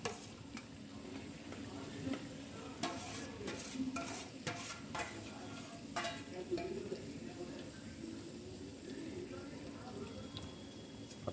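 Corn kernels with curry leaves and turmeric stirred in a pan, a steady scraping and light sizzle with occasional sharp utensil clacks against the pan, continuous and fairly close.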